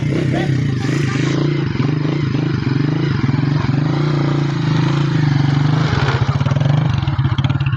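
A motocross motorcycle engine drones steadily nearby at a cemetery with a buzzing, rattling tone, its pitch shifting slightly as it revs and settles.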